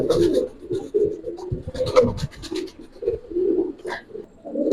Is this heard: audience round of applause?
no